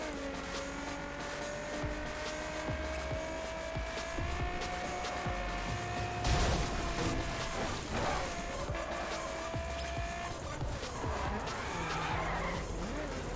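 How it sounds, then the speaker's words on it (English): A car drifting in the racing video game The Crew, its engine droning steadily while tires squeal and skid in long sustained screeches, with a harsher burst midway, loud and continuous. "the drifting in this game feels awesome"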